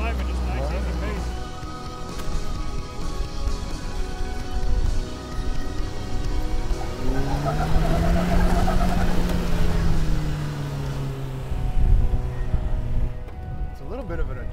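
A fuel-injected Jeep climbs an off-road trail in Moab, Utah. Its engine drones close at a steady, easy pace, with revs rising and falling, and people talk over it throughout.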